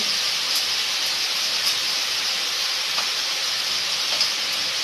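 Spiced masala of turmeric, chilli powder, green chilli and salt frying in oil for a lentil-fritter curry, giving a steady, even hiss and sizzle close by with a few faint clicks and no talk.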